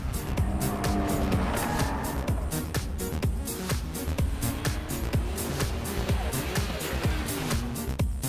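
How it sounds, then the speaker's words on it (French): A Skyline sports car with a titanium exhaust driving hard on a mountain road, its engine roaring continuously with a loud, raspy exhaust note and rapid pulsing revs throughout. "Quant au bruit délivré par l'échappement titane, il est tout simplement monstrueux."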